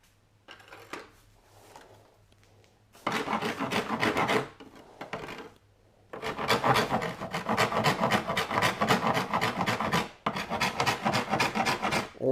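A cheese grater file rasps across hardened, dried body filler on a car's dash and nose area. Long, harsh scraping strokes come in close bursts with short pauses between them, and no one speaks.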